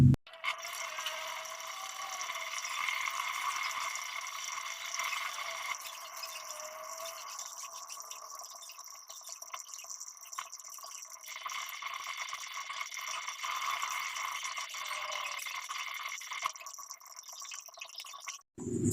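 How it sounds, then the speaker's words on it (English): Water runs steadily from a tap for medical hand washing, a continuous moderate hiss with faint splashing and rubbing that stops abruptly at the end. "before we begin the assessment, we have to do medical hand washing first"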